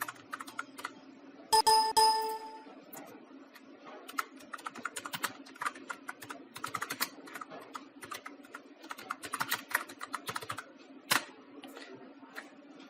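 Typing on a computer keyboard while writing text in MS Word: scattered clicks and tapping bursts run through the whole stretch, moderately close against a low steady hum, with no talk.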